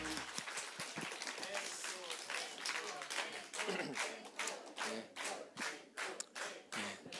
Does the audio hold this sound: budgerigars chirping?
no